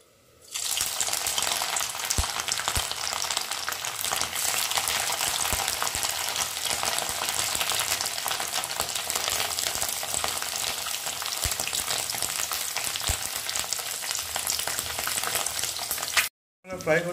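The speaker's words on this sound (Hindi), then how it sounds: "तेल गर्म हो गया है और अभी हम इसमें पनीर को थोड़ा फ्राई कर लेंगे।" Paneer cubes frying in hot oil in a pan for a no-onion, no-garlic matar paneer, a loud, close, continuous sizzle with occasional stirring clicks and a brief break near the end.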